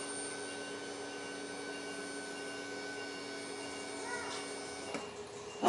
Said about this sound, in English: We'll go ahead and turn the pump on.